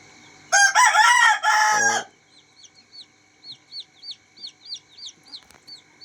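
Desi chickens and chicks at a poultry farm, where a voice speaks loudly for a moment before a run of about a dozen short, high, evenly spaced peeps follows nearby.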